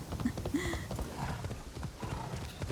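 A horse's hooves in Assassin's Creed Shadows beat a steady, close clip-clop gallop, with a brief neigh early on and faint background sound underneath.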